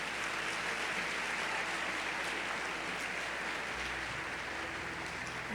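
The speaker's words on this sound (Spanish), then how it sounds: "denle un aplauso al Señor si quiere fuerte" Church congregation applauding during a Spanish-language sermon, a sustained, even roar of clapping that fills the space steadily for several seconds.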